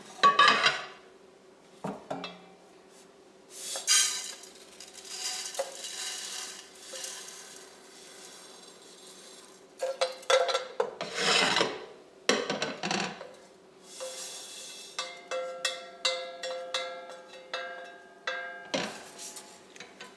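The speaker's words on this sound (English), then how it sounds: "transfer all the rice into this big bowl, and we're going to wash and drain the rice" Kitchen clatter of a big bowl of rice being handled for washing and draining: repeated clinks, scrapes and knocks of pots and utensils in irregular bursts, close and moderately loud, with no talking.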